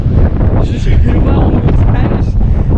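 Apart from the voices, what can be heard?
strong wind by the sea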